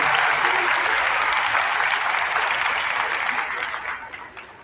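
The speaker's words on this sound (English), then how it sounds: "I want us to applaud all students for their efforts today." A school audience at a fifth-grade awards assembly applauds students, a dense, sustained clapping from a crowd in a room that gradually thins and fades out.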